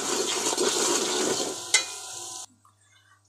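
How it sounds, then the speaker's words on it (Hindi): A spoon stirs a spice mixture for kadhi pakora in a pot, a steady close scraping and sizzling wash with one sharper knock, cutting off abruptly into near silence. "अब हम मिक्स करते हैं।"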